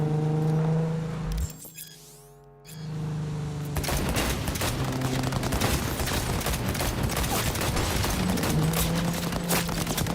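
Gunfire in Cyberpunk 2077 fills a busy firefight: after a steady hum and a brief dip, rapid volleys of shots rattle on continuously and loudly, with whirring and engine-like noise beneath.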